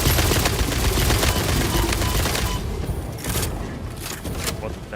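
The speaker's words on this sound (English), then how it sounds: "Artillery." Artillery fire in the video game Satisfactory: a dense, continuous barrage of loud booms and gunfire-like cracks fills the first half, then thins into scattered sharp blasts over steady background noise.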